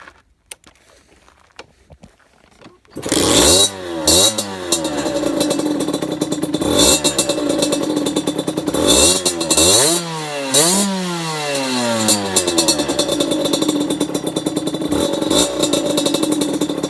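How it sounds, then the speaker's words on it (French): A 2020 Beta RR 50 SM dirt bike with a Voca Rookie aftermarket exhaust starts after a quiet moment, then revs up and down repeatedly, loud and close, with a raspy, buzzing tone. "Donc je vais vous faire écouter le bruit du pot"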